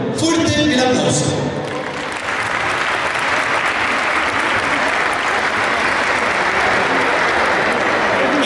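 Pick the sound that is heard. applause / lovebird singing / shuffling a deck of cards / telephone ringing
applause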